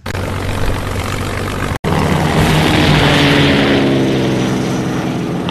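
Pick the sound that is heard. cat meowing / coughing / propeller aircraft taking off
propeller aircraft taking off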